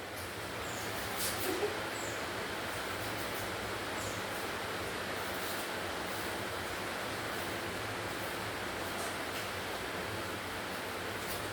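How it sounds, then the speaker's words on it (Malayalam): Steady, even hiss of rain falling, soft and distant, continuing without pause. "മഴ പെയ്യുന്നത് കേൾക്കുന്നു കേൾക്കുന്നുണ്ടോ ശബ്ദം"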